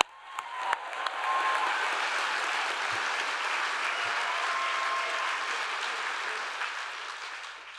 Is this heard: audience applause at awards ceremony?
yes